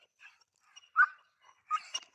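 A dog, with puppies nearby, gives a few short high whimpers and yips, close and fairly quiet, separated by silent gaps.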